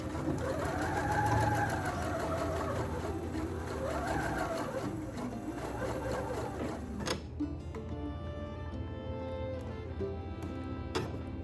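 A sewing machine back stitches along a waistband in a steady, fairly quiet run, with a clicking rhythm and a faint ticking near the end.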